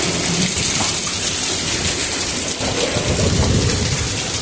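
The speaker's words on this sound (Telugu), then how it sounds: "అదిగో వడగళ్ళు" Heavy hail and rain hammer steadily on a tin roof during a windy hailstorm, a dense, loud, unbroken clatter with deeper rumbling underneath.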